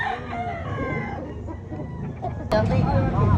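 Roosters crow and cluck amid the crowd noise of a gamecock market in Cebu City, with one sharp crow breaking in near the end over steady chatter and background bustle.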